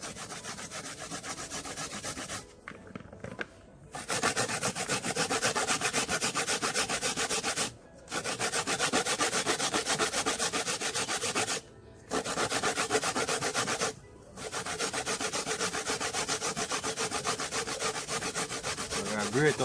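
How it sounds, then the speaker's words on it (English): A coconut is grated by hand in a home kitchen, making a steady, close scraping rasp that keeps up a dense rhythm, with a few short pauses between runs and no talk. "Grate up the coconut"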